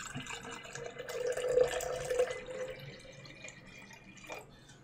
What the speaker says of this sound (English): We're just gonna pour some of the apple juice into it to make room for the honey.